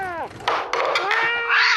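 Several hungry cats meow loudly and insistently up close, one drawn-out call after another crowding together, with no talk over them.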